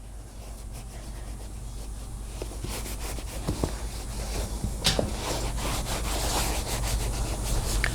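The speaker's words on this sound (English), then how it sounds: "as I wipe it with a clean, dry cloth" A clean dry cloth wiped over a leather saddle, making soft continuous rubbing and scuffing strokes, close and faint, with occasional brief louder swipes and no talking.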